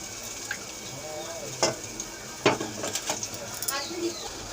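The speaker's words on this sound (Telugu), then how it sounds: "పక్క స్టవ్ మీద ఆయిల్ పోసుకుని ఉల్లిపాయ ముక్కలు వేయించుకుందామండి।" Onion pieces fry in hot oil in a pan on a stove, giving a steady close sizzle with a few brief stirring clinks and scrapes, and faint bird coos in the background.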